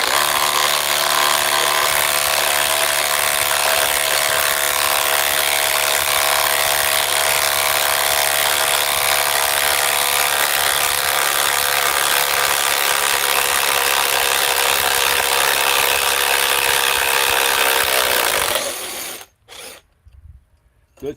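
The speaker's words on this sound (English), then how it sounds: "the drill managed to put it in" A cordless drill drives a screw into particle board, giving a loud, steady mechanical whir and grind for about nineteen seconds before it cuts off abruptly and leaves a few faint knocks.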